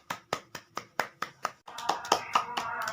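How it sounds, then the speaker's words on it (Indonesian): Applause from an audience at a drug awareness session: about seven distinct, evenly spaced claps, then a fuller burst of many hands clapping together, close and moderately loud. "Kita beri tepuk tangan."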